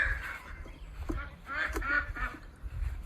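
Several goose-like honks from backyard ducks ring out in short bursts over a low rumbling background, fairly close, with faint voices at times.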